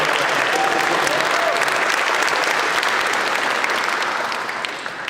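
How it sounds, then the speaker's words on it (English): A large audience at a community event in Mississauga applauds steadily with dense, loud clapping that fills the whole stretch and fades slightly toward the end. "So I just want to give him a round of applause."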